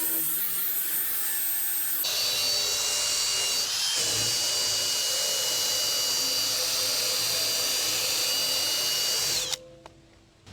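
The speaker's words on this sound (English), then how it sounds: "chalking up this nylon spin brush in my drill" A power drill spins a nylon brush that scrubs aluminum, a loud continuous high whine with grinding scrub noise, revving up at the start and cutting off near the end.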